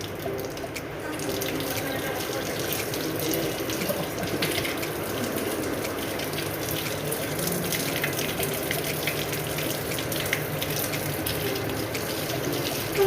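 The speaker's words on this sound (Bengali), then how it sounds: "আমরা এখন হাত ধোবো আর কি তারপরে রওনা দেবো" Tap water runs steadily into a sink as hands are washed after a meal at a restaurant, a continuous splashing gush lasting throughout, with faint background chatter.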